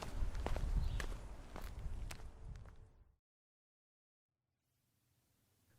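Footsteps walk toward a parking lot, a run of distinct close treads on a hard surface that fade out after about three seconds, followed by silence.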